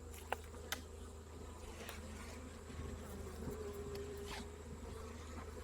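Honey bees hum around Apimaye-style insulated hives at a beeyard, a faint, steady buzzing drone with a few small clicks near the start and no speech.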